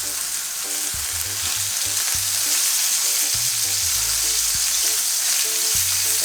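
Barracuda and lobster sear in a hot pan, a loud, dense, continuous sizzle with steady crackle, heard close up with no talking.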